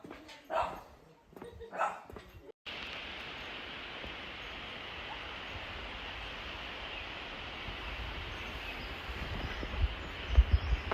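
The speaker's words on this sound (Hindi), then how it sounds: "यहाँ पे ना एक कुत्ता था इसके घर का, जो इस कुत्ते को देख के ना भौंके जा रहा था।" A dog barking at another dog near a house on a street in Nepal, a few short sharp barks near the start before a sudden cut to steady background noise.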